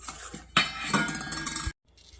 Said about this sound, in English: So I'll get this stirred around to where it looks like there's no lumps